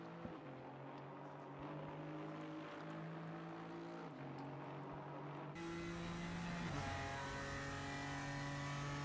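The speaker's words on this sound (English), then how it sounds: "He's moving now. I can hear his car." GT4 race car engine at Bathurst in Assetto Corsa Competizione, a steady loud drone with shifting pitch as it accelerates and changes gear, running continuously throughout.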